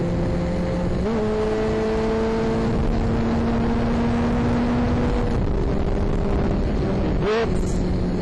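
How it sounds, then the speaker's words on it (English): A 1981 Suzuki GS850 motorcycle engine drones steadily while riding down the road, loud and close with heavy wind rush, the pitch rising through a gear change early on and shifting again near the end. "Look at it now. Rolling down the road."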